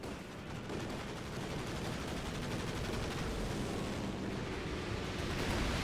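Continuous machine gun fire in Company of Heroes 2, a dense, unbroken rattle that blends with the surrounding battle roar and slowly grows louder.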